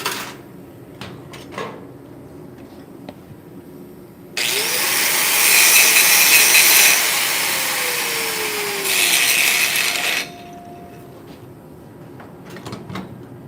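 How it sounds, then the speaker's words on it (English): A handheld grinder grinds out a contaminated spot during TIG welding. It gives one loud, steady whine of about six seconds, rising and then spinning down, with quieter shop noise before and after. "I'm gonna go ahead and grind that spot"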